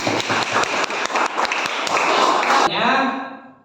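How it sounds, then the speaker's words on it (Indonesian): A class of students claps together during an Islamic studies lesson on inheritance, with dense, lively applause that stops abruptly near the end as voices continue in the room. "Oke, tepuk tangan dulu dong."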